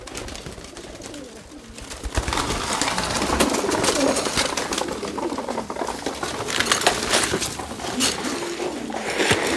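A flock of domestic pigeons that have just landed at a loft, with flapping, shuffling and soft cooing blended into a steady close ambient wash, getting busier after the first couple of seconds.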